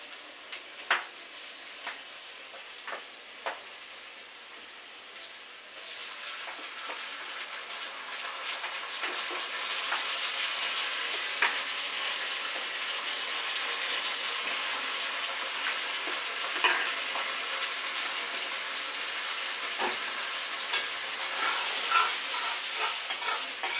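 Garlic and ginger fry in a hot pan with a steady, moderately loud sizzle that swells after a few seconds, broken by occasional light scrapes as they are stirred.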